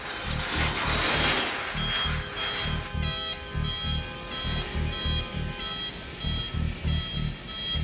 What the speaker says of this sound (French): Coupez les alarmes.